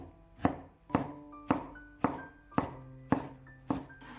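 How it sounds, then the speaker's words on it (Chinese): A knife chops tomato into smaller pieces on a cutting board in eight evenly spaced, sharp thunks, close and clear with quiet gaps between strokes and no talking. "然后将西红柿先切成大块，再改刀切小一些。"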